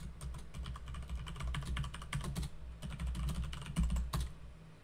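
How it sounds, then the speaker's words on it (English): Someone types a password on a computer keyboard at a Gentoo Linux terminal: quick irregular bursts of clicking keystrokes with short pauses between, close and clear with no talking. "I didn't type my password in right again"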